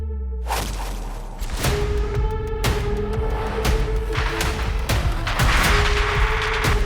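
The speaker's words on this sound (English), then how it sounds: "I can hear gunshots" Rapid gunfire and sharp booming shots ring out in the intro of the F.E.A.R. video game, loud bursts crackling over a sustained dark drone with whooshing swells, continuous and dense.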